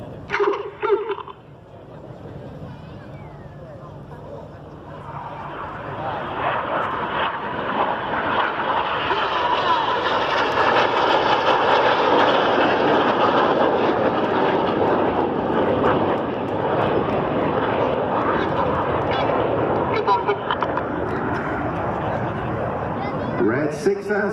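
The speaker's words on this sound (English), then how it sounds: "Here comes red 1 to 5 with red 9 tucking in behind, pulling up the red, white and blue smoke coming on." Red Arrows jets of the RAF aerobatic display team sweep past at an air show in Gdynia, a roar that builds from distant rumble to a loud sustained wash overhead, with a commentator speaking over it.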